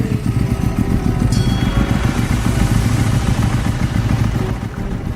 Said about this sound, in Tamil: ஹெட்லைட் வெளிச்ச பிரகாசத்தோடு ஸ்கூட்டர் சத்தம் கேட்டது